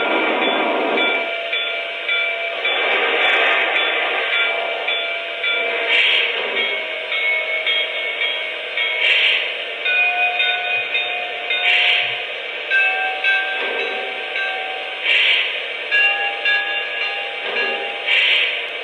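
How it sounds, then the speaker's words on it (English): A Lionel Strasburg 31 model steam locomotive sounds its default bell, a bright metallic clang repeating in a steady rhythm about every three seconds over a constant electronic hiss, with no talking. "Here's the default bell."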